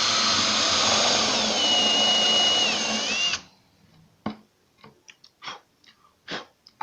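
A power drill fitted with a countersink bit bores into wood, a loud steady whine with a rising then sliding pitch for about three seconds before stopping abruptly, followed by a few quiet clicks and handling knocks.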